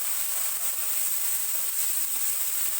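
Garlic, ginger-garlic paste and cumin fry in a pan over medium flame, giving a steady, close, bright sizzle that hisses on without a break and with no talking.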